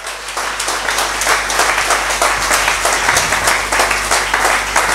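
A church congregation applauds for God in a loud, sustained burst of many hands clapping together, steady and dense from start to finish.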